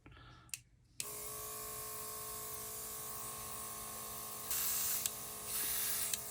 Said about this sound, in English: Let's see if this will even come through the airbrush.